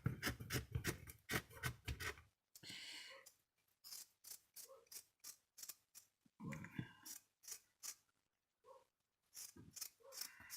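Scissors snip repeatedly through material for a homemade Christmas wreath, a run of quick close rasping cuts in bursts with short pauses, quiet and alone.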